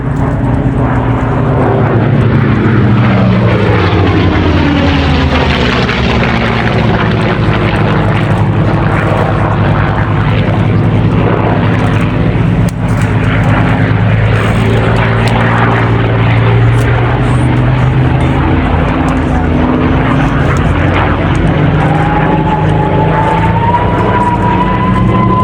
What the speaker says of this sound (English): And here they come over the motorway, Corsair and Mustang.